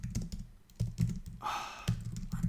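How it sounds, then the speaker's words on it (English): Someone types on a computer keyboard while working on code. The keystrokes are close and uneven, with clustered bursts of clicks and a brief rushing, scraping sound in the middle. "I'm so bad at typing."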